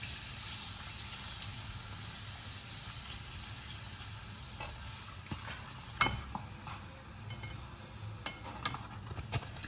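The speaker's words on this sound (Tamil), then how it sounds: "இன்னொன்று பொறிக்கிறேன் எண்ணெய் வந்து நல்லா காய்ச்சலாக இருக்கணும்" Rice appalam fries in hot oil with a faint, steady bubbling sizzle. A few light utensil clinks come near the middle and end, and no one speaks.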